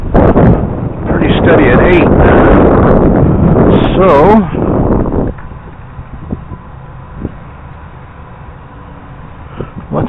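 Wind of about 10 mph gusting to 12 buffets the microphone in strong rumbling gusts while someone talks, then eases to a lighter, uneven blowing.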